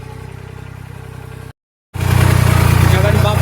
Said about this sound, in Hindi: अपने ट्रैक्टर को ले चलते हैं अपन उसी नदी में।